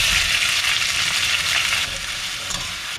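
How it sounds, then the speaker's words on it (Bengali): Sliced onions fry in oil in a pan with cloves, cracked cardamom and fennel seeds for a Sylheti meat curry with shatkora, giving a steady, loud, close sizzle that holds throughout with light stirring and no talk. "পেঁয়াজ ভাজা হয়ে গেছে।"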